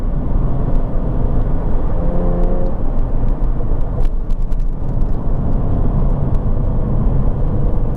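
A Jaguar F-Type on a long drive gives a steady loud rumble and whir of engine and road noise from inside the car, with no talking.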